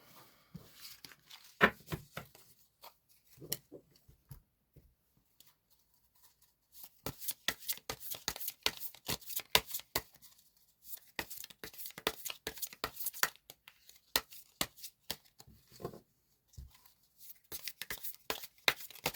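Tarot cards shuffled and drawn by hand for a reconciliation reading, soft papery riffles and slaps coming in sparse bursts at first, then denser rapid shuffling, close and alone without talk.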